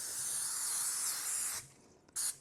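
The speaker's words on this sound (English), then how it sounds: "we need to just give our muffin pan just a quick spray" Cooking spray hisses into a muffin pan in one long, close, steady burst, then pauses and gives a second short spray.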